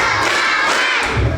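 Children seated in a group clap in unison on cue, a dense burst of hand claps and crowd noise filling the short moment, loud and close.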